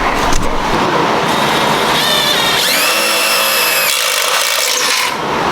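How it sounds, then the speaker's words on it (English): A power drill grinds into wood, its motor whining up to a sustained high pitch for a second or so before settling back to rough churning. "and then I'll just have to drill that bottom one"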